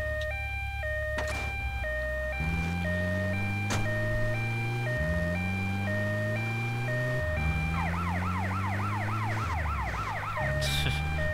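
An ambulance siren in GTA Vice City wails loud and close, sweeping in repeated rising tones, then switching to a fast warbling yelp before returning to the slower wail over engine rumble.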